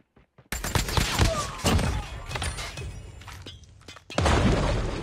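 Thermite ammunition fired from a Man-O-War rifle in COD Mobile: loud rapid bursts of close gunfire with crackling impacts, a pause, then another heavy burst, with a player talking in between.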